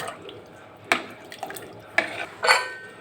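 A spoon stirs millet with water, salt, turmeric and oil in a cooking pot, giving a few sharp metallic knocks against the rim over soft wet stirring.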